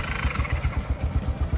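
A Honda Rincon 650 ATV fitted with a 680 top end runs close by, its engine giving a rapid, steady chugging putter with mechanical clatter.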